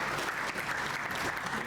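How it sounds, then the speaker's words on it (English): A crowd applauds at a building and construction industry apprentice awards ceremony, a dense, continuous patter of clapping hands heard from a moderate distance throughout. "you can keep the applause going"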